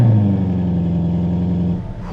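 A Toyota GR GT's engine fires up close by and settles into a loud, steady low idle rumble before dropping off near the end.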